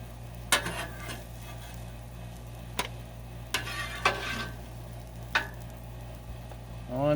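Vegetables and bacon on a griddle pan give off a low, steady sizzle, broken by several sharp scraping clicks of a utensil against the pan at irregular intervals, with no talking.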